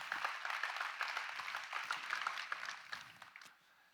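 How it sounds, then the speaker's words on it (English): Audience applause at a Microsoft Windows corporate keynote, a moderate crowd clapping steadily for about three and a half seconds before fading out. "a round of applause for the innovation that you see"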